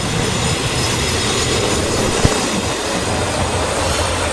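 A diesel railcar arrives, rumbling steadily nearby, a broad continuous roar of engine and wheels with a single sharp clank midway, no voices.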